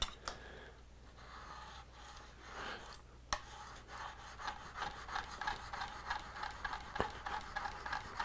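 A blade is worked over a sharpening stone in steady back-and-forth strokes, a continuous close rasping scrape with a brief pause and a couple of sharp ticks, alone without talk.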